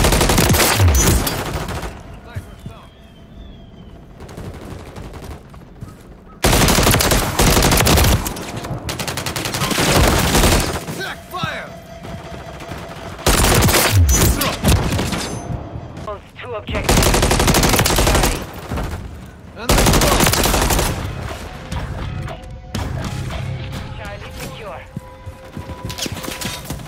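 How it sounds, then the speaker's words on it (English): Call of Duty MW3 beta match on the Rust map: bursts of automatic gunfire crack loudly in several long volleys, separated by quieter gaps of in-game radio callouts and ambient noise. "The enemy is making effective fire."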